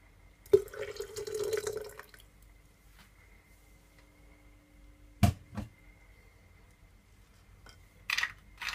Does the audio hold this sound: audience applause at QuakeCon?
no